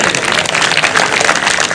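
An audience at a ceremony honouring a minister bursts into vigorous applause, a dense, loud, continuous clatter of many hands close by, with no voice rising above it.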